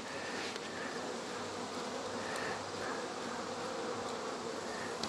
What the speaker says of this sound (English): Go away, yellow jacket.